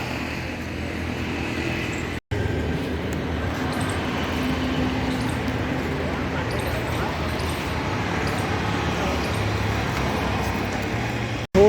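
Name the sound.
traffic noise near India Gate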